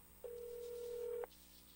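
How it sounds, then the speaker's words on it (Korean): A single steady telephone tone for a call being connected on a university radio broadcast, one clean beep lasting about a second, faint and alone. "전화 연결하고 있습니다"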